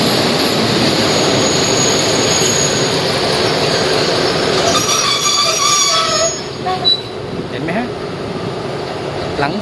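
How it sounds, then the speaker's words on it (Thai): Passenger train from Chumphon running through Kui Buri station on a double-track section, a loud continuous rumble of wheels with squealing and hissing that eases near the end as the cars pass close by. "ขบวนนี้ มาจากชุมพร ช่วงนี้เป็นสองเลนแล้วนะะ เห็นไหม รถไฟ"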